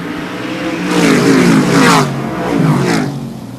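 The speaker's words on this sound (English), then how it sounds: "Refires on the front straightaway." Number 51 car in a super short track racing series restarting its engine on the front straightaway, then revving hard in two rising, raspy bursts, loud and close.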